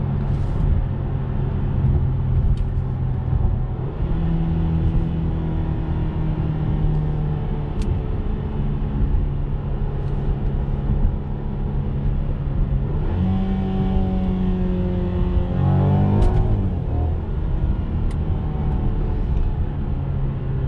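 A 2021 Mercedes-Benz C300 Coupe's 2.0-litre turbocharged four-cylinder accelerates from inside the cabin, a steady loud engine drone rising through several gear changes with sweeping pitch climbs near the end.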